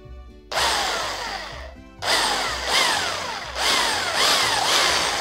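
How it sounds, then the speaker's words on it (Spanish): A power drill bores a small hole through the thin-walled handlebar of a Xiaomi electric scooter, whining in three or four loud bursts with short pauses between them, close to the microphone and without talk. "Vamos a hacer primero un agujero pequeñito."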